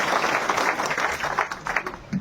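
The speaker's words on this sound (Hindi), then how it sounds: "जोरदार तालियों से हम उनको बधाई देते हैं।" A crowd at a public gathering claps in a dense, sustained round of applause, heard fairly close throughout.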